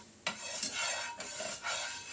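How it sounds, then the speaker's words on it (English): Avocado oil is spread and swirled around a T-fal frying pan, giving repeated raspy rubbing strokes in a steady rhythm, close up and fairly loud, with no talking. "you put a little avocado oil on there, not olive oil, and mix it around a little bit"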